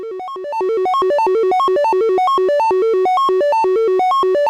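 A GMSN open-source modular synth sequencer steps an oscillator through a fast repeating pattern of bright, clean tones, each note short and evenly spaced, looping steadily and loud with no voices.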